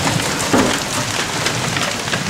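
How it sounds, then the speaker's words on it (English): Steady rain falling during a mild storm in Lincoln, Nebraska, after a brief spell of pea-sized hail, a continuous dense hiss of drops on surfaces at moderate loudness, with no voices. "Nothing but rain."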